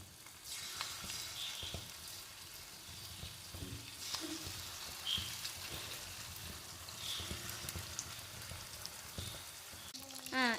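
Chicken pieces fry in hot oil, giving a soft, continuous sizzle with scattered small pops and crackles that stay quiet and even across the whole stretch.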